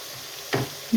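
Spice paste with salt and tomato puree sautéing in a pan for egg bhuna, giving a steady low sizzle with a brief louder burst of stirring midway and another at the end.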